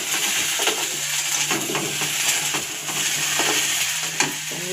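Food seasoned with turmeric and salt frying in a pan, a steady dense sizzle with intermittent scraping and stirring strokes, close and continuous with no talking.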